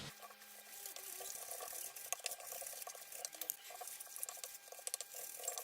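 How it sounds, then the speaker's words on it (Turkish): A mixture of oil and flour for börek is stirred in a bowl, with a continuous soft, wet patter and scraping close by and no talk. "Şimdi bunu güzelce karıştırıyoruz."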